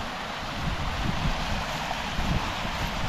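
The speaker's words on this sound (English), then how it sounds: "check out this beautiful waterfall here" Steady rushing water from a waterfall beside a river in Tilt Cove, Newfoundland, a broad even wash of noise that stays constant throughout with no voices.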